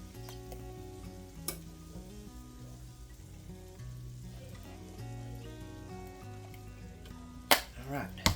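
Ground beef mixture sizzles quietly in a pan with a steady low crackle while ketchup is stirred in. Sharp scraping clicks from the spoon near the end sit over faint background music.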